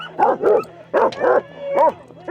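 An eight-month-old sled dog puppy lets out a run of close, loud barks and yips mixed with whining whimpers, the calls coming in uneven bursts over a low steady hum.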